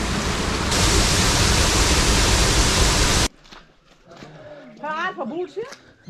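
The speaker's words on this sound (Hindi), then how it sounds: "और ये पानी नीचे से निकलता है।" Water gushing out from beneath a village water mill in Kashmir, Pakistan, a loud broadband rush that stops abruptly, followed by quieter surroundings with someone speaking.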